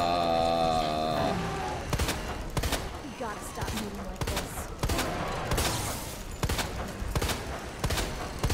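Rapid gunfire bursts from the Resident Evil 2 video game crack repeatedly and loudly over dense game sound effects and music, with sharp shot transients spread throughout.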